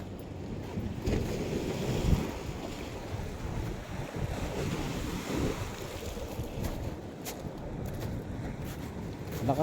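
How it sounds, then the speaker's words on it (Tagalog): Water waves splashing against a shore, a continuous rushing wash with rolling surges and heavy wind buffeting the microphone, with no talking. "Hampas ng tubig ah."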